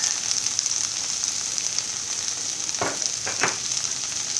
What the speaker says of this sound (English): we have to fry our bhendi very well